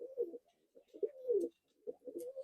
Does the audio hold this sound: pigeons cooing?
yes